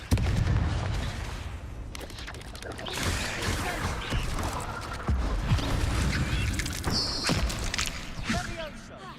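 Spell-casting combat in the Hogwarts Legacy video game produces booming blasts and bursts of impact among busy clattering effects, with a voice speaking over the action.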